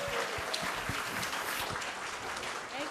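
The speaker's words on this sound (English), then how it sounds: "let's kick this off with a thunderous applause for Mad Science" An audience at a Darwin Day event applauds steadily, a broad wash of clapping from a crowd, moderately distant and sustained throughout.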